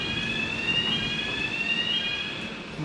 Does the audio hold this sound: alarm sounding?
yes